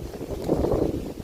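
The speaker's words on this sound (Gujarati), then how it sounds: "કેવી મસ્તીની એકદમ આમ ફ્રેશ નેચરલ એર એકદમ મસ્તીની હવા આવે એવું" Steady wind rushing and buffeting across the microphone at a hill station in monsoon, a continuous low broadband roar that swells slightly midway, with no voices.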